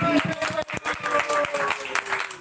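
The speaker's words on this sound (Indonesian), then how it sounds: "Tepuk tangan buat Kecot lagi." Audience applause during a live-streamed chat show with a silat group, a mix of scattered claps and crowd noise, moderately loud, with voices mixed in underneath.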